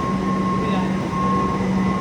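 A Kolkata metro train runs on the New Garia to Ruby line, with a steady loud rumble and a faint electric whine inside the car.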